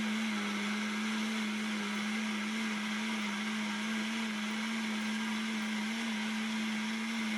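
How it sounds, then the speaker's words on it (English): A kitchen blender liquidizes spicy pumpkin soup made with soft cooked potatoes, giving a steady whirring motor whine that holds one even pitch throughout without pause. "Pour the contents of the pan into a blender and liquidize the mixture."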